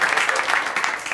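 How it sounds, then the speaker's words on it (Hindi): Audience applause at a Hindi stand-up comedy show, a dense burst of clapping from the crowd lasting about a second, loud and steady without a voice on top. "ताली आपने पहले बजा दी।"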